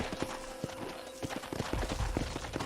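Quick clip-clop hoofbeats of a horse galloping in the video game Red Dead Redemption, a close, steady run of hard strikes continuing throughout.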